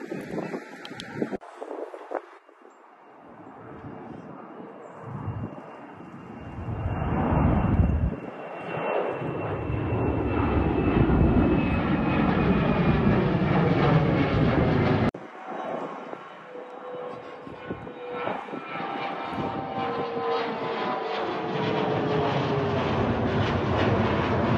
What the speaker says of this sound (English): We are plane watching.